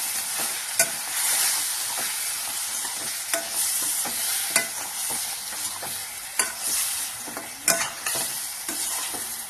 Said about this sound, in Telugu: లో టు మీడియం ఫ్లేమ్లో డీప్ ఫ్రై చేసుకున్నాం